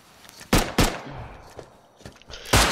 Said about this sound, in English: shoot me with the nail gun